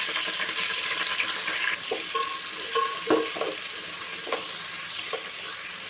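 Two hundred grams of long-sliced onions sizzle in hot oil with spices for a jackfruit biryani, a steady bright fry broken by a few scraping stirs and clinks, with no one talking.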